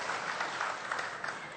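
A studio audience gives a warm round of applause, a steady wash of many hands clapping at moderate volume for the whole stretch with no one speaking.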